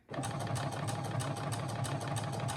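A Brother SE1900 sewing machine side-sewing runs at a steady, fast stitching rhythm of repeated needle strokes over a constant motor hum, close and alone.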